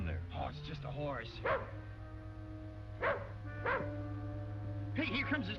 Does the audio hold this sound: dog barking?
yes